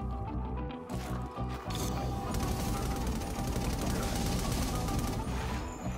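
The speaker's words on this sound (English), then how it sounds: "This is gonna be awesome! Automatic turrets!" Automatic turrets in inFAMOUS Second Son fire rapid sustained bursts, a dense loud rattle of gunfire with a couple of brief pauses near the start, then continuous firing to the end.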